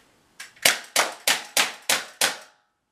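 A 6mm airsoft gun fires a quick, even run of about seven sharp pops, each ringing with a bright metallic clang as the BBs strike a target. The volleys are close and loud, with no talking.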